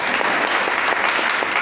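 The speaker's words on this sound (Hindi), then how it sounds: "इनकी कामयाबी पर एक बार जोरदार तालियां बजाओगे ना।" A crowd of students applauding successful army exam candidates at a coaching academy, a loud, dense, continuous burst of clapping filling the room.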